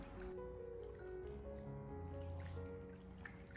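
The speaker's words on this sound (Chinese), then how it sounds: "我们尽量的将它多搓洗一会，把豆角上面的一些灰尘和杂质搓洗下来。" Green beans are rubbed and rinsed by hand in a basin of water, giving soft sloshing, dripping and trickling sounds at close range, quiet and continuous without speech.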